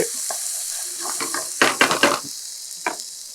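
Curry leaves in a tempering fry in oil for potato masala, with a steady close sizzle and several bursts of crackling and stirring in the middle.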